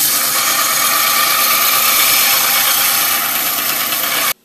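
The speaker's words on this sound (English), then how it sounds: "I'm also probably going to grind this" A grinder works a steel lawnmower blade into a knife, a loud, steady, close, harsh grinding roar that stops abruptly at the end.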